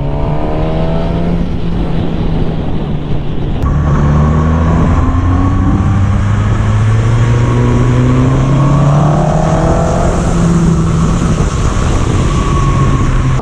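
A 2020 Suzuki GSX-S 1000 motorcycle engine revs hard on the move, rising and falling pitch sweeps through gear changes under constant loud wind roar, close and continuous.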